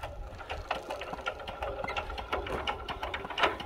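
A power tiller (cultivator) engine turns over with a fast, steady mechanical chatter, close by and moderately loud, with irregular knocks throughout and no talking.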